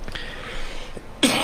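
A person gives a sudden sharp cough near the end, after a stretch of low, murky background noise.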